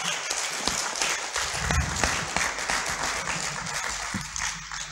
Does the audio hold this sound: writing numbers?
no